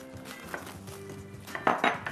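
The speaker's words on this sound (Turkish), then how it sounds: "havucu doğradıktan sonra tenceremizin içine ilave ediyoruz" Chopped carrot pieces tumbling into a cooking pot while making Turkish kağıt kebabı, a scattering of light clinks and knocks building into a louder clatter near the end, heard close up with no voices.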